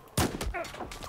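Enemy gunfire in Battlefield 4 comes as one sharp, close shot followed by a short, dense burst of shots in about a second.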